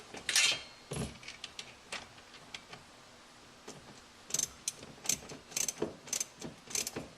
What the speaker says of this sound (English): And just start ratcheting.